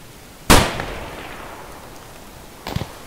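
A single loud, sharp gunshot aimed at a scav in a shooter video game, followed by a fading echo and a quieter burst of shots a couple of seconds later.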